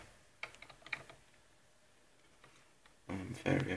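Keys clatter on an old Packard Bell computer keyboard in short, faint bursts of clicks, then a louder, denser run of typing close up at the end.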